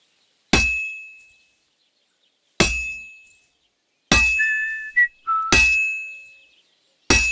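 In Kingdom Come Deliverance II, a hammer strikes metal at a blacksmith's forge with five sharp, ringing clangs spaced a second or two apart, each decaying slowly, and a short whistling tone sounds between two of the blows.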